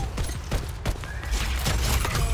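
Rapid bursts of gunfire in Fortnite on a zombie island map, as a player shoots at zombies. The shots crack close and loud in quick irregular volleys, with a few mechanical clicks between them.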